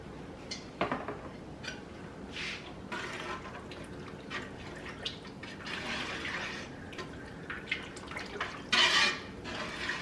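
Chopped onion and wine simmering in a pan give a soft, continuous bubbling hiss, broken by occasional drips and light clinks. A brief louder burst comes near the end.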